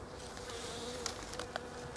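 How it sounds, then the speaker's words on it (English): Bees hum steadily around a flowering Photinia serratifolia shrub in a garden, a close, continuous drone with brief louder passes as individual insects fly near, and no talking. "I better watch out I don't get stung by a bee."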